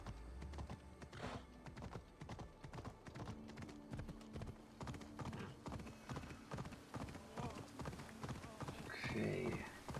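Galloping hooves of Phobos, a legendary horse in Assassin's Creed Odyssey, clop in a steady rhythm with a brief whinny near the end, all under ongoing speech.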